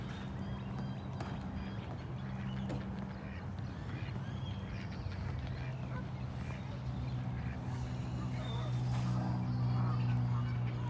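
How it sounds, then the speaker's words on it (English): Ducks quacking and honking in a Las Vegas city park, scattered calls at a moderate distance over steady outdoor background noise, with faint voices around and children playing nearby. "Children chasing ducks, as they should"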